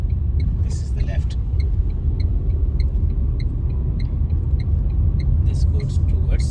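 Tata Nexon driving along a toll road between Bangalore and Chennai, a steady low engine and tyre rumble from inside the cabin that holds constant throughout, with faint clicking at intervals.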